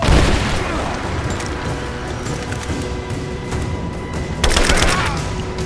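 Video game gunfire sounds as a dense, continuous fusillade of overlapping shots and booms, with a louder burst of rapid fire near the end and faint voices in the mix.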